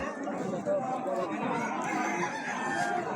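Chickens and ducks at a busy livestock market during a religious fair, clucking and crowing mixed into dense crowd chatter, with people talking close by throughout.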